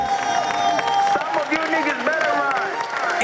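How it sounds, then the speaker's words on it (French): Audience at a Congolese improvisational theatre evening applauds, loud close clapping mixed with cheering and excited voices in a lively room, steady for a few seconds. "On applaudit pour l'hippopo. On les applaudit."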